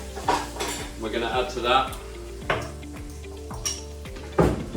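Onions cooking in a pan at home for tandoori-style lamb chops, stirred with a utensil: repeated scraping clinks of metal on the pan over a soft sizzle, with a few louder knocks, while a person talks.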